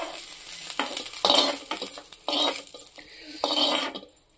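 Green chillies frying in a pan for tomato chutney, a loud close sizzle with repeated bursts of metal stirring and scraping against the pan, no voices.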